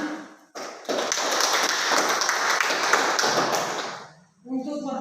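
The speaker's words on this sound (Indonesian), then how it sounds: "kita berikan tepuk tangan" A classroom of pupils gives a round of applause in an Indonesian school lesson, with a burst of many small hands clapping for a few seconds that fades out, and a voice talking briefly before and after.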